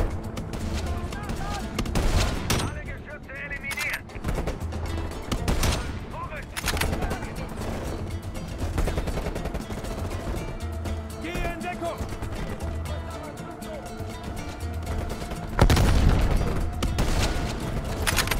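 Repeated bursts of gunfire in Call of Duty: Black Ops Cold War, sharp shots and rapid volleys over a busy background of game sounds, with a loud blast near the end.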